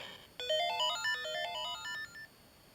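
Bright, beeping 8-bit Game Boy chiptune melody plays quickly with stepping square-wave notes, then stops abruptly, leaving quiet hiss.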